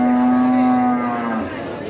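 A single long, loud moo from a cow at a cattle market in Tuban, a sustained close call that slowly trails off.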